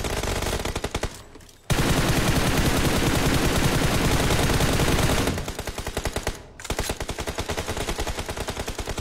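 Rapid automatic gunfire in a video game shooter, loud and close, with sustained bursts broken by brief pauses and no talk over it.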